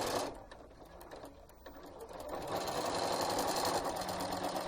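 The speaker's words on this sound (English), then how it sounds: "I just find it easier to sew down the whole length of this." A sewing machine stitches elastic onto a fabric face mask, its motor whirring in a steady, close run that builds in speed and holds a continuous hum.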